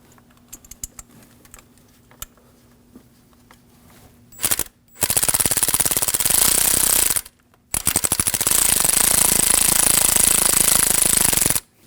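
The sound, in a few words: power tool tightening 10 mm coil pack bolt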